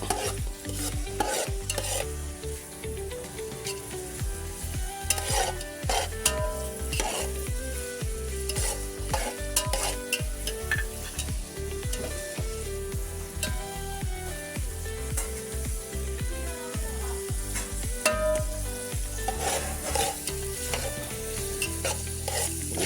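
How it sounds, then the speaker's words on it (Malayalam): Onions sautéing in a pan for chicken curry, stirred constantly with rhythmic spatula scrapes and knocks over a loud, continuous sizzle, up close and with no voices. "ഉള്ളി ഇങ്ങനെ വാട്ടിയെടുക്കണം"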